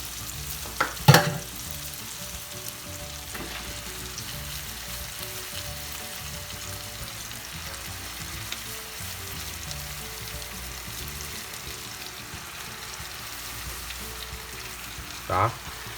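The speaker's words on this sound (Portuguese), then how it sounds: "vou pegar minha carne moída e aí vocês vão ver a maneira de colocar ela" Ground beef fries in a hot pan for bolognese, a steady close sizzle and crackle throughout with a couple of sharp clatters of utensil or meat being added.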